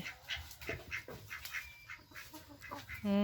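Ducks in a wooden pen made of Payung wood quack in short, repeated calls at close range, with brief pauses between them and a louder, raspy call near the end.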